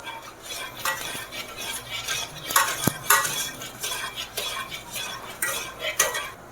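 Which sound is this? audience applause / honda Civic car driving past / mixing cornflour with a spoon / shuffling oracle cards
mixing cornflour with a spoon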